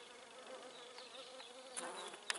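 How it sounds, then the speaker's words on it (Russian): A small hoverfly (a herbivorous flower fly) buzzes faintly and steadily as it flaps its wings, a thin continuous whine with a couple of brief louder flutters near the end. "Вот, вот ты как машешь весело крылышками."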